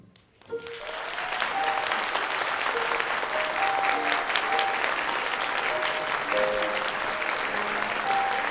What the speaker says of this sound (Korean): 저희 어머니 아버님께서 입장하고 계십니다. 우리와 같은 박수를 부탁드리겠습니다, 여러분.